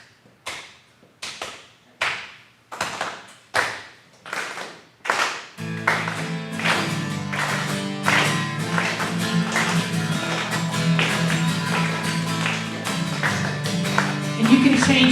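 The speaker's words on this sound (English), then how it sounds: "So if you all could do a clap," Congregation at an all-ages Sunday worship service clapping, first a few sharp evenly spaced claps alone, then steady rhythmic clapping continuing under loud music with a droning low tone.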